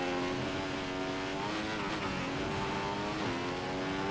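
Formula One car in the F1 2015 racing game at the British Grand Prix, its engine screaming loudly and steadily, with the pitch dropping in quick steps through several downshifts to second gear.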